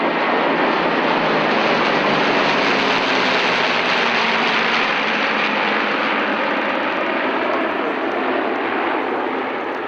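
A large formation of vintage warbirds roars past at a Flying Legends airshow in Britain, a loud, sustained, broadband engine drone that barely fades over ten seconds.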